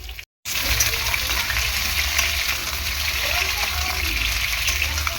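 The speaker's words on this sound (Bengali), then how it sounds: "আলুটা প্রথমে ভালো করে আমি ভেজে নেব।" Potatoes frying in a pan give a loud, dense, steady sizzle close up after a brief silent gap at the start, with no voices over it.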